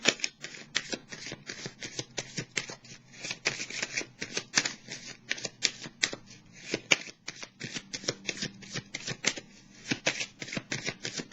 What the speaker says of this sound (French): Je vais repiger une autre carte.